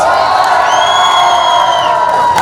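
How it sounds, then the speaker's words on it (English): A loud crowd cheers, whoops and shouts continuously at the closing of the NIMA Mobility Expo, with a sustained roar and a few high-pitched yells rising above it. "Applause to that."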